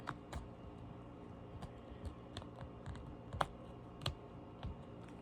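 Tarot cards being locked up and packed into a bag, a string of sharp clicks and small knocks spaced irregularly, close and fairly quiet, with one brighter snap midway.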